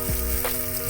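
Chopped onion frying in a mix of ghee and white oil for an old-style chicken korma, a loud, close, continuous sizzle with a brief stirring scrape.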